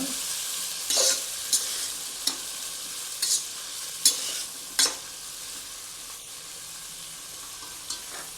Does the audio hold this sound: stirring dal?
yes